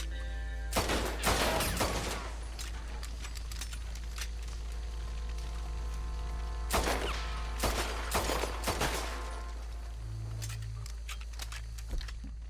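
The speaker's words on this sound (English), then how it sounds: "Stop shooting at nothing, you crazy bastard!" Gunfire from the video game Red Dead Redemption 2: several sharp, loud shots in scattered bursts, some in quick pairs, over a steady low rumble of game ambience, with no one talking.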